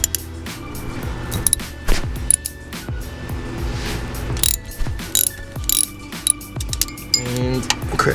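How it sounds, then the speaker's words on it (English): A 13 mm ratchet clicks steadily as pulley bolts are loosened on a supercharged Ram 1500 pickup, with close rapid pawl ticking in repeated bursts, metallic clinks between strokes, and no voices. "we're gonna take our 13 millimeter ratchet and remove these bolts"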